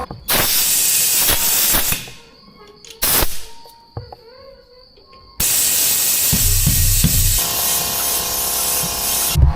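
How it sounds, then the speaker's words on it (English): A tiny portable air compressor inflates a tire with loud bursts of hissing air. The bursts start and stop, with clanks and brief quiet gaps between them, then settle into a long, continuous hiss. "Do you think I can get it with this tiny little compressor?"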